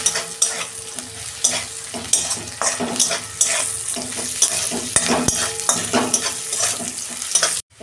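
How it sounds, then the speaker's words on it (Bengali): Onions fry in a pan for prawn malai curry, a close steady sizzle broken by repeated scraping stirs of a spatula against the metal, ending abruptly. "এই যে পেঁয়াজ ভাজা হয়ে গেছে"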